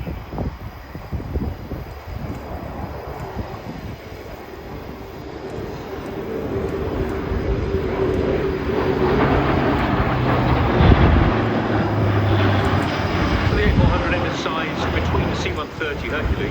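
Turboprop engines of a Luftwaffe Airbus A400M Atlas military transport at the RIAT 2025 airshow roar steadily and build louder as the aircraft passes, a broad rumbling drone, while a commentator talks over it.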